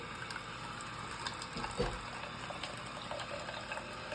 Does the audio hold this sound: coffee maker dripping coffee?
yes